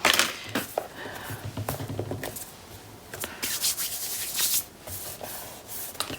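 Paper being burnished onto a Graphic 45 Safari Adventure scrapbook cover, heard as close, dry rubbing and scraping strokes in uneven bursts with a few light taps and no talking.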